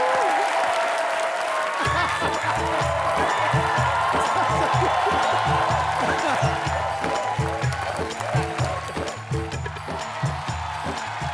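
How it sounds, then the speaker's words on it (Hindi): A comedy show studio audience breaks into sustained applause with some cheering, clapping continuing steadily throughout at moderate loudness. "जोरदार तालियां सोनाक्षी के लिए, प्लीज"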